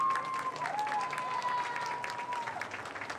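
Applause and cheering from a packed soccer crowd at a varsity boys' high school match at Vicinio, a sustained wash of clapping with a whistle-like tone drifting through, moderately distant.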